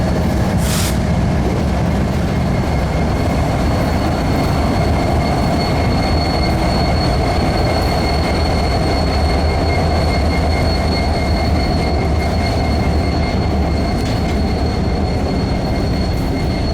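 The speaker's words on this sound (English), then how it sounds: "This train originates out of Pine Bluff, Arkansas" A CPKC or UP freight train rolls past steadily in Shreveport, a low rumble of wheels on rails with faint metallic squeals and tonal whines running throughout, continuous and fairly loud.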